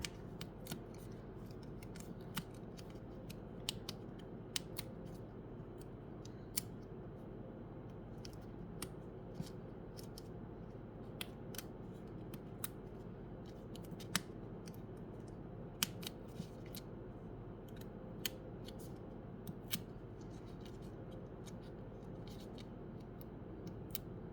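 Scissors snipping through light material at a craft table, making many small, crisp, scattered clicks and cuts over a quiet, low background hum, close and faint.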